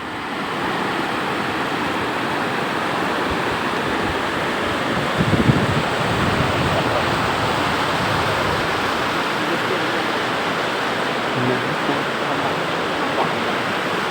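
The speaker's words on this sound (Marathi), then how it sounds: "ही आंबा नदी आहे" The Amba river in Raigad district near Khopoli rushes with a steady broadband roar of flowing water, constant and fairly loud throughout with no talking.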